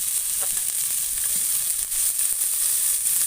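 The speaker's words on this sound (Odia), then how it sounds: "ମଝିରେ ତେଲ ପକାଇଦେଲେ, ତାପରେ ପିଆଜ ଆଉ କ'ଣ ଲଙ୍କା, ପିଆଜ ଆଉ କଞ୍ଚା ଲଙ୍କା ପକା ହେଲା।" Chopped onions and green chilies fry in hot oil in a pan beside fried fish in a home kitchen, giving a loud, steady sizzle with faint stirring scrapes throughout.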